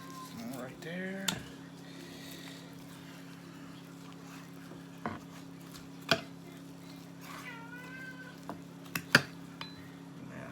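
A cat meows several times, drawn-out and pleading, at moderate distance over a steady low hum during deer meat processing, with scattered knocks and clinks of handling around it.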